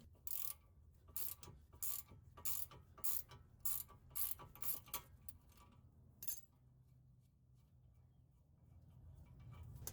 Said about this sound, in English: using the small one to hold the middle as you loosen the nut enough to be removed by hand